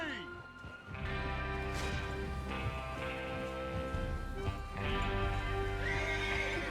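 Horses whinny loudly and hooves clip-clop at a run over a layered, tonal game soundtrack, with a crash-like burst partway through.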